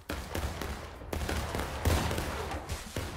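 Musket volleys crack out in the War of Rights video game during a Civil War battle at Antietam: about six sharp, loud shots fired at uneven intervals over a continuous rumble of distant battlefield fire.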